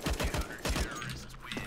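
Gunfire in a Counter-Strike match on FACEIT: a rapid burst of close, punchy shots opens, then lighter pops and a low mechanical hum trail off.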